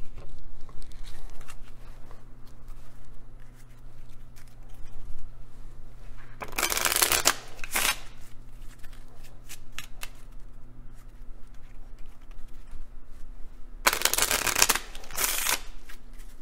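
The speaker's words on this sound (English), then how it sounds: "Right, first we're gonna shuffle the cards." Temple Run Speed Sprint playing cards being shuffled, two brisk riffling bursts several seconds apart over a low steady background hum, close and distinct with no talking.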